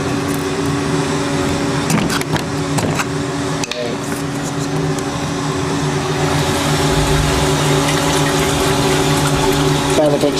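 A power flushing pump circulates water through a fairly large central heating system of about 30 radiators, giving a continuous loud mechanical hum with sloshing, gurgling flow and a few sharp knocks throughout.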